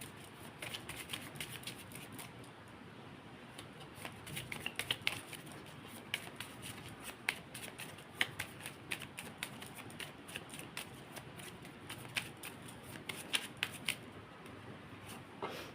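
Tarot cards being shuffled by hand, a soft steady riffling and flicking that runs the whole time with small crisp ticks and no talk over it.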